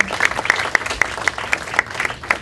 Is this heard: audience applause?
yes